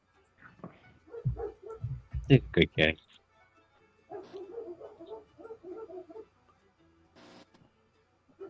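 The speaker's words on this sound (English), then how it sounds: "they're outside barking. Some dogs." Dogs bark outside in short bursts, a cluster of sharp, fairly loud barks followed by a softer, rapid run of barking, with a voice talking briefly between them.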